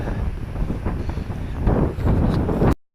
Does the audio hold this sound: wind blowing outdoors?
yes